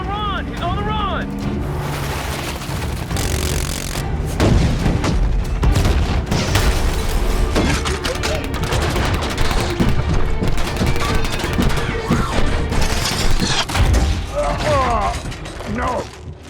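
Loud movie battle scene from Transformers: Age of Extinction with gunfire, missile blasts and heavy booms, dense and continuous throughout, mixed with shouting voices and score.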